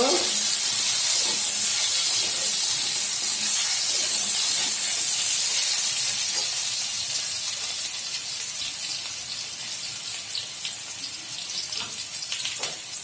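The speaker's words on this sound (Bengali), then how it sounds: "আলুটা ভেজে নেব" Potatoes fry in a pan with a loud, dense hiss that starts strong and eases slightly over time.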